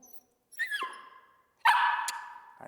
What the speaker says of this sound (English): So as soon as she barks, you're going to tap it and then lift it 6 inches.